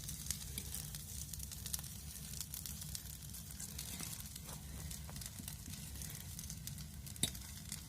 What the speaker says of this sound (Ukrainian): А ти чуєш, як вона шкварчить?